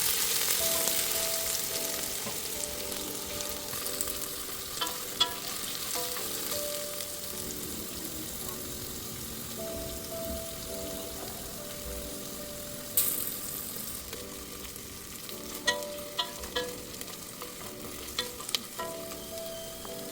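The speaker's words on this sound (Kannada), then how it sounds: "ಇವಾಗ ಆನಿಯನ್ ಫ್ರೈ ಆಗಿದೆ" Chopped onion and green chilli fry in hot oil in a pan for mushroom biryani, a continuous sizzle broken by repeated scraping stirs and occasional sharper clinks of a spoon against the pan; no one talks.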